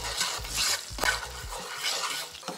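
Brown sugar caramelizing in a pot for a Trini stew sauce, heard as soft sizzling under a few stirring clinks and scrapes of a utensil against the pot, close and fairly quiet.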